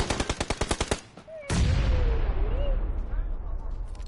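Rapid burst of about eight sharp gunshots, then a loud blast with rumbling aftermath and a whistling tone, like game combat audio.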